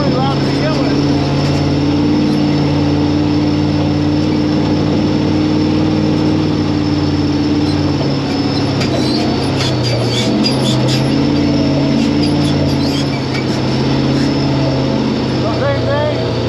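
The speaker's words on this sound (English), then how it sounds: "You're gonna hear a lot more blower whine now." A supercharged car engine with its blower whine, a steady high mechanical whine riding over a loud running engine throughout, with people talking over it at times.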